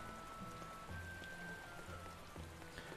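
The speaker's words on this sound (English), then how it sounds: "It's raining." Steady rain hiss at the Port Renede docks in Tales of Berseria, an even wash of falling water with soft droplet patter, heard alone and fairly quiet with faint game tones drifting underneath.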